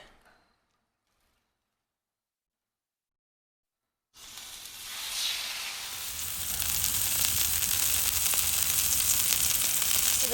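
Steak hits plenty of hot oil on a Blackstone griddle after a silent pause, bursting into a loud, close hiss that builds and then holds as a steady sizzle, with no talk over it.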